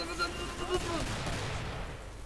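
Gunfire in the co-op zombie shooter Left 4 Dead 2, a rapid cluster of sharp shots over steady game noise, with players talking over it.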